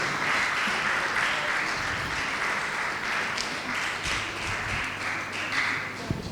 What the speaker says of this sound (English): Please make that applause louder.